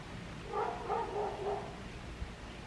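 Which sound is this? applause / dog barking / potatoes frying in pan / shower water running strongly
dog barking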